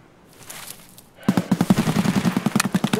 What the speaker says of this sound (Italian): Dove sono questi spari?